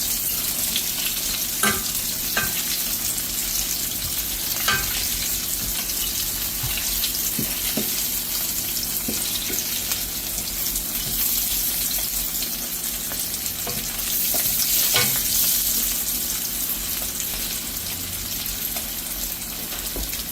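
Cheesy mashed potato balls browning in oil in a pan, a long, even crackling sizzle with scattered sharp pops and occasional utensil clicks, close and steady, no one speaking.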